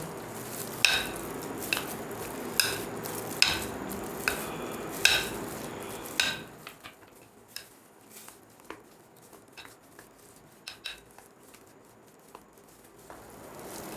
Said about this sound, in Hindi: इसे अच्छी तरह मिक्स कर देंगे।